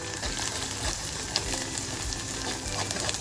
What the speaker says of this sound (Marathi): आपल्याला मसाला असा छान भाजून घ्यायचा आहे